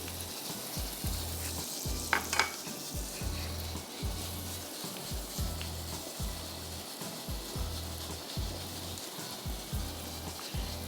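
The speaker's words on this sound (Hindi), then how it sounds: "ज़रा सा प्याज को सौटे करेंगे और हम इसमें चिकन का कीमा डाल देंगे आधा किलो" Onion and half a kilo of chicken mince sautéing in a pan, a steady close sizzle with a rhythmic low thump of stirring repeating throughout and a brief scrape of the spatula.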